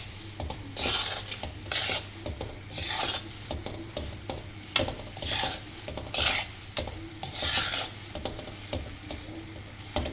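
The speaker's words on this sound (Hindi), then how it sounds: "बेसन सेकते हुए साथ साथ में आप चाशनी भी हिलाते रहिए।" Gram flour roasting in a pan for besan barfi, alongside sugar syrup on medium heat, is stirred in steady rhythmic scrapes over a soft sizzle. The sound is close and clear, with no talking.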